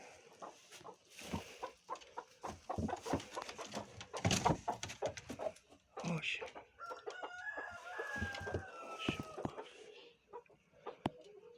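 Hens in a coop cluck and squawk in irregular bursts close by, with a crowing-like call rising in the middle and brief pauses between outbursts.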